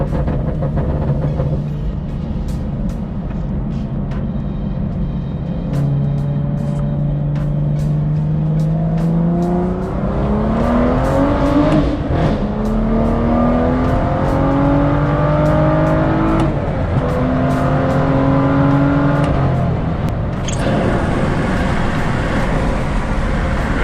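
A manual BMW M2 pulls hard through the gears, its engine note climbing repeatedly with brief dips at each shift, loud and close from inside the car over steady road noise.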